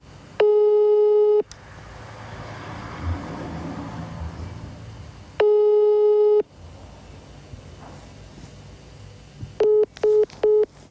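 An unanswered phone call gives a loud, repeated busy signal, with two long steady tone bursts separated by quiet line noise, then several quicker beeps at the end.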